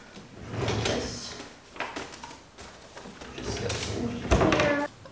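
Drawers in a home craft workspace storing sublimation paper slide open and shut, with several scraping, sliding bursts and a sharper knock near the end, close by and fairly loud over faint room noise.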